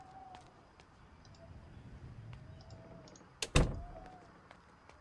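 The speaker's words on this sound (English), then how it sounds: "Let's actually shut the door." A door is shut in the zombie survival game Project Zomboid, set in a police station, with a single sharp thunk and a short rattle against faint background clicks and hum.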